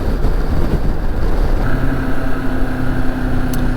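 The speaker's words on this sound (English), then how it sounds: "there's actually quite a lot of engine braking, so that's me not really doing much just in second gear" A Moto Morini X-Cape 649 parallel twin motorcycle engine-brakes in second gear, a loud steady drone buried in heavy wind buffeting, with a faint tonal whine rising partway through.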